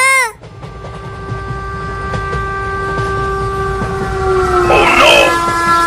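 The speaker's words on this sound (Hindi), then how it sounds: "आगे देखो, इसी लाइन पर आगे से एक ट्रेन आ रही है।" A train on a railway line approaches, opening with a brief descending horn-like tone and then a steady rumbling drone with sustained tonal whine that grows louder toward the end, with a warbling tone near the close.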